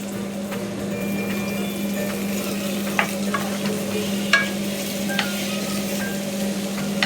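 Onions fry for a Tamil-style crab gravy, a steady close sizzle under a low constant hum, with a handful of sharp utensil clicks and scrapes scattered throughout, no speech.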